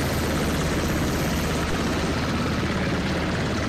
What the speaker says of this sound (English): Ronan and Phoenix are in the helicopter circling around.